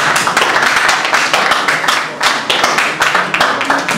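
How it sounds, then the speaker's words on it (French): Loud, close applause from a comedy-show audience, individual claps clearly separated in a brisk, slightly uneven rhythm, a fairly small crowd clapping alone with no talk. "Applaudissez pour vous, s'il vous plaît"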